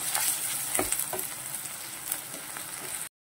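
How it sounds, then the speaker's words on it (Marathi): A filling sizzles and fries steadily in a pan over low heat, with occasional scraping stirs and crackles, close and continuous until it cuts off abruptly. "कमी गॅसवर आपल्याला पूर्ण आपलं हे सारण परतून घ्यायचं आहे"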